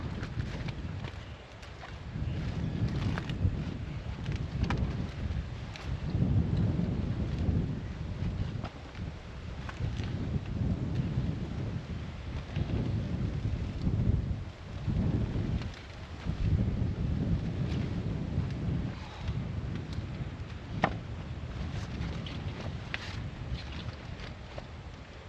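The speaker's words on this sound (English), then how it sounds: "So it's extremely windy like it always is" Strong, gusty wind buffets the microphone beside a farm high tunnel, a steady low roar that surges and eases in waves for the whole stretch with no talking.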